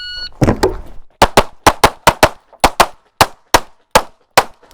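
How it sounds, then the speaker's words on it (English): A Shadow Systems CR920XP compensated 15+1 pistol fires a rapid string of about eleven sharp, loud shots in quick succession, after a brief handling clatter at the start, with no talking. "All right, we're going to shoot the CRXP."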